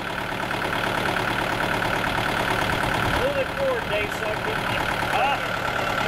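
A tractor engine idling at an outdoor auction, a steady rough mechanical rumble running throughout while someone talks over it.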